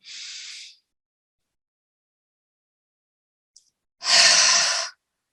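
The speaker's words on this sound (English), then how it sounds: "a nice long inhale through your nose. Exhale out of your mouth. Let it all out." A person breathes deeply during a detox breathing exercise, with a soft airy breath at the start and a longer, louder breath after a long silence, both close and alone.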